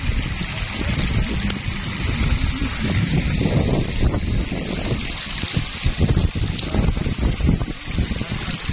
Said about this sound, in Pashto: باران یقینا هم تیز شولی